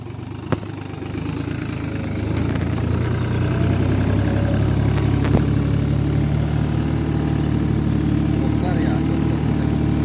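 A New Holland TT50 tractor engine runs with a steady, loud low rumble that swells slightly after the first couple of seconds; faint voices can be heard under it.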